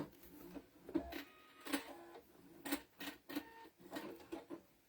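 A sewing machine stitches across fabric while making a couch-shaped pincushion, producing quiet, close, rhythmic mechanical whirring bursts that start and stop in short runs.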